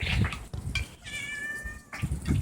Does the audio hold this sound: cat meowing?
yes